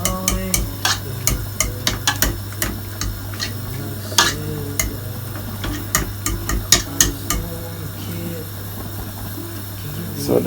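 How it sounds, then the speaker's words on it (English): Rice tipped into a pot of boiled, crushed pumpkin, with steady clinking, stirring and watery sloshing over a constant low hum, a run of quick ticks and scrapes, close and fairly loud. "So now I'm just gonna add in the rice."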